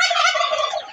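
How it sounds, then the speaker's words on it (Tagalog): Turkeys gobble loudly and continuously close by, a dense rippling chorus of bird calls that fades slightly toward the end. "Lalo na yung mga pabo."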